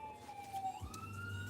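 A passing ambulance siren wails in a smooth tone that sweeps down and then back up, with a low vehicle rumble underneath, at moderate volume.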